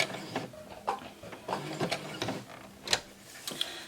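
A sewing machine stitches fabric for a doll diaper in short mechanical bursts of whirring and clicking, close and moderately quiet, with brief pauses between runs and sharp clacks as the presser foot is handled.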